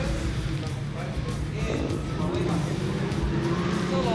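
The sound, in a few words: off-road race cars racing around the track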